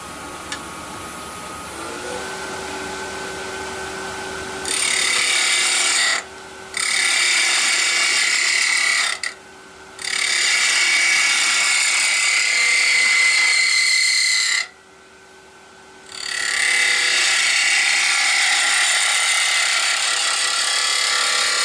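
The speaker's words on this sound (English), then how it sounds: "Using a spindle gouge." A spindle gouge cuts a small yew hollow form spinning on a lathe, loud rasping bursts that stop and restart several times between brief quieter pauses.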